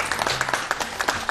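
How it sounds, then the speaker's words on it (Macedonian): Applause from an audience at a scouts' event, a short burst of fairly loud clapping with distinct individual claps standing out, and no voices heard over it. "Ајде на аплауз"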